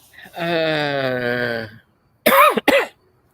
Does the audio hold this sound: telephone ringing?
no